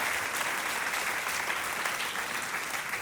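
An audience at a church service and graduation ceremony applauds warmly, a dense, steady wash of clapping from many hands sustained without pause.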